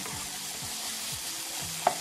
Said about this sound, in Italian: guardate come da solo caccia il grasso necessario a condire la nostra pasta